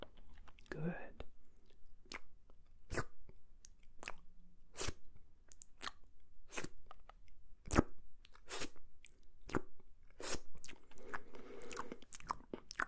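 Close, soft ASMR mouth sounds mimicking eating: wet chewing, biting and crunchy clicks in an uneven rhythm recorded on a Tascam, with a brief whisper near the start.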